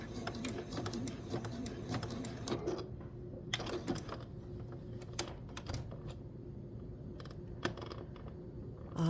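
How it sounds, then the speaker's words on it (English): A Juki sewing machine working a button stitch, quiet bursts of rapid mechanical ticking separated by short pauses. "I am just using the button stitch on my machine"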